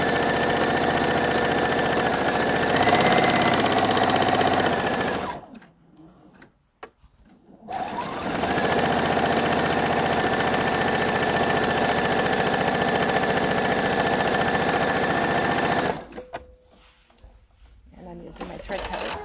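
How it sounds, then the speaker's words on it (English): A sewing machine stitches a half-inch seam on a bag, running in a steady loud whir that stops briefly midway and again near the end. "And sew my 1/2 inch seam."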